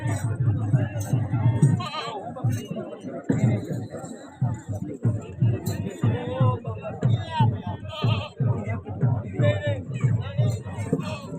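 Goats bleating repeatedly at an annual goat fair at a shrine, mixed with a busy crowd and someone talking over the animals close by.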